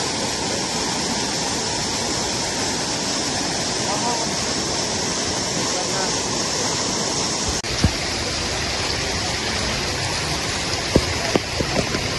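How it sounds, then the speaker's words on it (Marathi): A rain-swollen waterfall near Ekveera, Maharashtra, roars steadily nearby, a dense continuous rush of falling water. A voice may be faintly present beneath it. "धबधबा आहे तो झरणा नाही धबधबा झालेला"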